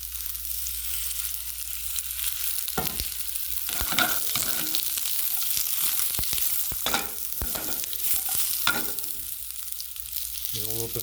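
Baby zucchini sautéing in olive oil in a hot non-stick pan, a soft continuous sizzle with occasional light clatters and stirring scrapes, close and fairly quiet, with no talking.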